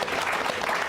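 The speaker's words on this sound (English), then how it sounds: "I think we should give a round of applause to Sathyu for answering those questions." Audience at a talk with Satinath Sarangi on the Bhopal disaster breaking into a round of applause, a dense burst of many hands clapping with no voices over it.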